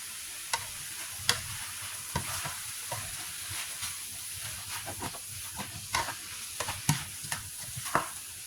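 Pork belly is stir-fried in a pan until dry and crispy. A soft, steady sizzle is punctuated by repeated sharp scraping and clattering strokes of a spatula at an uneven rhythm, with no voices.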